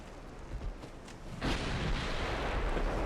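Naval guns fire during a battleship engagement in the warship game Ultimate Admiral Dreadnoughts, low rumbling shots building into a loud, sustained booming barrage.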